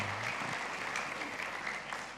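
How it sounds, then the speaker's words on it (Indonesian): A church congregation claps during a sermon, a soft, even patter of applause heard from some distance. "Beri tepuk tangan buat Allah kita"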